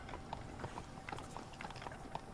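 Horses' hooves clip-clop in Red Dead Redemption as a group of horses arrives, a quiet, fairly regular patter of hoofbeats at a moderate distance.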